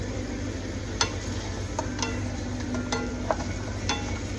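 Beef caldereta with fish sauce being stirred in a pot, a low bubbling simmer under several sharp spoon clinks and scrapes against the pot, close up and with no talking.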